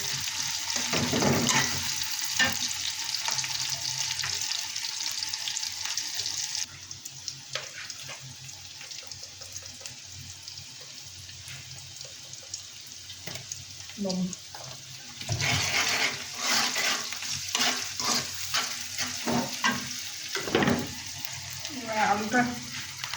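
Dried red chillies, onion and green chillies fry in oil as a tempering for Bangladeshi mashed potato, with a steady crackling sizzle, repeated spoon scrapes and clatter, and bursts of louder spitting near the end.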